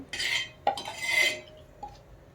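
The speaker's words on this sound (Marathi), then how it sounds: "तवा इथं गरम केला आहे आणि आता त्याच्यावरती तेल लावते" Oil is spread across a hot tava griddle while besan ghavan batter waits nearby. Two short, bright sizzling hisses come up close, and a faint metallic clink sits between them.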